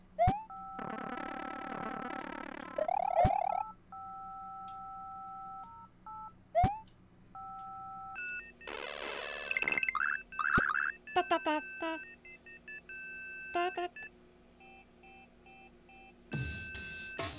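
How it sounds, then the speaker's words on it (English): Telephone tones in a game: steady electronic dial-tone hums alternate with quick bursts of beeping keypad tones and synthetic chimes, under occasional speech. "Oh, dial tone."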